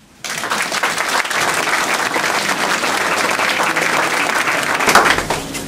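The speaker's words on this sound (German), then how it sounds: "und das ist euer Applaus." Audience applause for students at a school exhibition, a steady dense clapping that starts abruptly, holds loud and even throughout, and swells briefly near the end.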